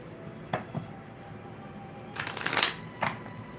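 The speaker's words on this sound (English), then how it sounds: "Shuffle again." Soft riffle of tarot cards being shuffled, a few quick flicks and then a longer crackling burst, close and fairly quiet.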